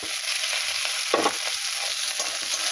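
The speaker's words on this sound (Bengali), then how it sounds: "এটা ভালো করে ভেজে নেব" Garlic, ginger, onion and chopped chili fry loudly in a pan, producing a dense, steady sizzle with occasional stirring scrapes and no voices.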